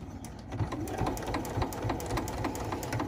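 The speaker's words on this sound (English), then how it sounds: "I do tend to take an extra stitch and then back stitch." A sewing machine stitching binding onto a log cabin table runner, a rapid, even mechanical chatter of needle strokes running close and steady, with no speech.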